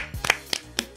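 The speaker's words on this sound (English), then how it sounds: "give a round of applause to Jamie from Hatebreed" On a podcast, a brief round of applause comes as just three or four sharp, close hand claps within a second.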